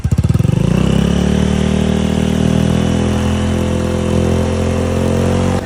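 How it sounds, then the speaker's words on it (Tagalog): Motorcycle exhaust fitted with a JBT muffler version 3 adjustable pipe, loud and close, starting with a rapid throbbing rev that settles into a steady deep idle rumble, no talk. "nag-try din tayo ulit ng JBT muffler version 3 adjustable pipe"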